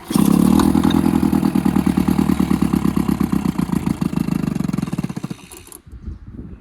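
A Suzuki motorcycle engine fires on the first pull and runs with a loud, rapid, steady idle chatter that holds for several seconds before cutting off abruptly.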